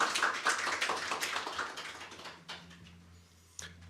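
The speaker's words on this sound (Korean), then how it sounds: "우리 박수로 환영하겠습니다." Congregation applause at a Sunday church worship service: a dense, steady wash of many hands clapping fills the first couple of seconds, then thins and fades away, leaving a quiet room with a single late tap.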